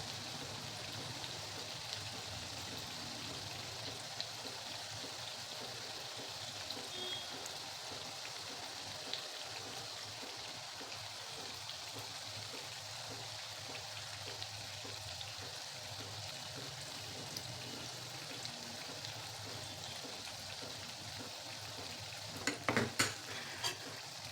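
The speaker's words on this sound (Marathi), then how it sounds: "चकली तळण्यासाठी थोडासा वेळ लागतो" Chakli dough spirals frying in hot oil, a steady, even sizzle and bubbling that runs evenly throughout, with a few sharp clicks near the end.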